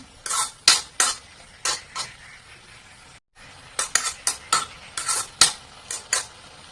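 Bottle gourd being stir-fried into kosha in a pan, heard as a quick run of bright metallic clinks and scrapes from a utensil against the pan, in bursts with a brief pause midway, with no talking.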